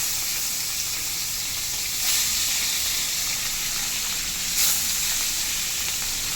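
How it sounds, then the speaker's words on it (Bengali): Fish frying in a very hot wok with oil, a loud, steady sizzle that holds throughout and swells briefly twice, with no talking. "মাছগুলো ভেজে নিচ্ছি।"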